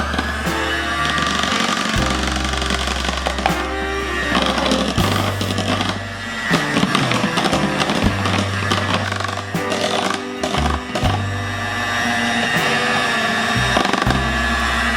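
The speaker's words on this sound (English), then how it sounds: "So now I'll beat my whipped cream until it forms like a soft peak" A mixer whips heavy cream toward soft peaks, its motor droning loud and close and shifting in pitch as it runs, with brief dips where the speed changes; no one talks.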